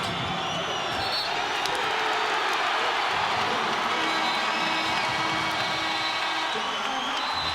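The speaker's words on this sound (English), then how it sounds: "Aggie fans were quiet for a while. Now they have reason to get loud again." Aggie fans pack the arena at a New Mexico State versus UTEP basketball game, and their crowd roar swells into loud sustained cheering and whooping that fills the space steadily for several seconds.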